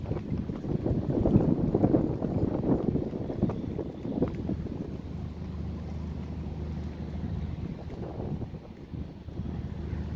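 A tugboat tows a long convoy of barges along a river, giving a continuous low engine rumble and water wash under steady wind buffeting, heard from nearby without speech.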